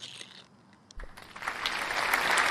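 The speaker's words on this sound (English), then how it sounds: "Trying to hit my applause." Applause sound effect from a livestreamer's soundboard: quiet at first, then a swelling wash of clapping that grows louder and fuller over the last second and a half.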